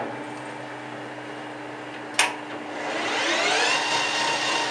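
Machining on a lathe turning at about 230 RPM during restoration of a Flanders 20 motor part, a steady motor hum with a sharp brief knock midway, after which the running tone rises and swells slightly.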